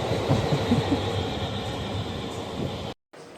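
Steady rumbling of the Machilipatnam to Bidar Express rolling along the tracks after leaving Mahabubabad, a continuous mechanical drone with faint rhythmic clatter, cutting off abruptly near the end.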